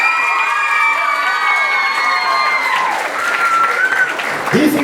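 An audience at a folk dance ensemble's award ceremony in Delchevo claps loudly and continuously, with a few cheers and shouts mixed into the applause.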